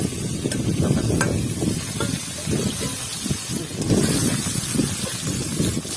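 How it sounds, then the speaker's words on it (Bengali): Fish frying in hot oil in a pan, with a steady close sizzle and bubbling and a few faint sharp pops, with no talking. "দারুণ হবে কিন্তু ঢেলা মাছ ভাজা, কিন্তু একদম জমজমাট।"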